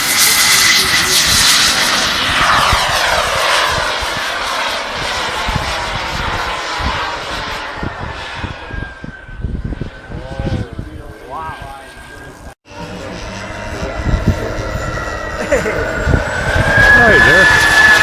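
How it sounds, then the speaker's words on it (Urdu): Loud, roaring whine of a turbojet-engine model jet flying at a drone competition, passing and fading then surging back, with someone talking over much of it. "ایک صاحب تو ٹربو جیٹ انجن سے بنا ہوا ایک جیٹ اڑا رہے تھے"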